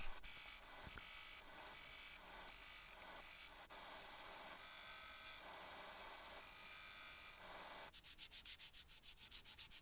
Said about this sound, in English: And then I gave the handle a final sanding.